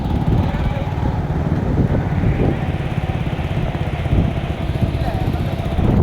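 A Royal Enfield motorcycle ridden on Saint Martin's island, its engine thumping steadily and loudly up close throughout, with wind noise and voices talking over it.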